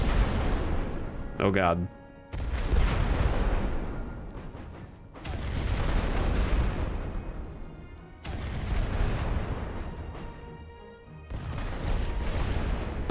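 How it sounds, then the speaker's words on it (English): Heavy artillery shells burst in a rolling barrage during a World War I trench combat game, loud booms and crackling explosions arriving in repeated waves, with a brief voice exclaiming early on. "Rolling barrages fire several lines of artillery shells."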